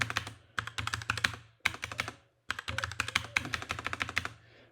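Quick bursts of keystrokes on a computer keyboard while a Cisco router command is typed, coming in clustered runs with short pauses between them, close and fairly quiet, with a low steady hum underneath.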